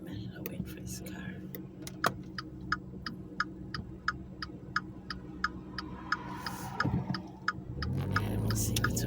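A car passes near a vehicle driving toward a bridge at sunset, its swell rising and fading over a steady engine and road rumble, with a regular ticking throughout and a louder rush at the end.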